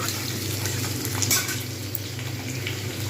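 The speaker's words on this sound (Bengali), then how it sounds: "লাল করে ভাজা হয়ে আসছে" Steady sizzling and crackling of potatoes frying in a pan, with a few light scraping stirs, close by and continuous.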